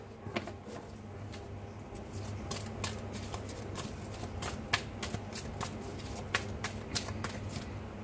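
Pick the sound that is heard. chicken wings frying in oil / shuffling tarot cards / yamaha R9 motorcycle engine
shuffling tarot cards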